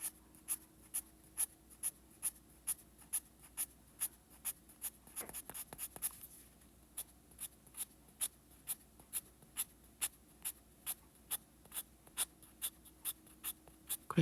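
A pencil draws short, firmly pressed lines on paper in a basic drawing exercise: regular, evenly spaced scratchy strokes, close and alone, with a brief cluster of quicker scribbling partway through.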